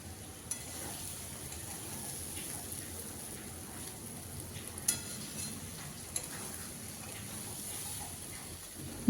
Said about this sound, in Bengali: ছোলার ডিম আমি আরও 5 মিনিট মশলার সঙ্গে মিশিয়ে নেব।